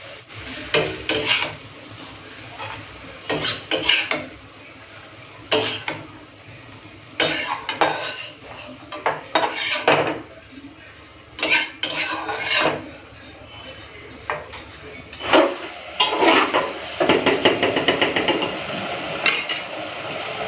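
A metal utensil scrapes and clatters in a pan while lifting out fried potatoes cooked with poppy seeds, made from old rotten potatoes, in repeated short bursts of scraping with brief pauses, close and fairly loud, with no talking.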